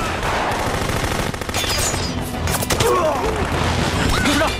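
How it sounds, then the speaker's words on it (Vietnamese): Dense battlefield gunfire from a Chinese anti-Japanese war drama: sustained machine-gun bursts and rifle shots with crashes and ricochet whines, loud and continuous throughout. "Nghe tiếng súng thì có lẽ là quân Nhật"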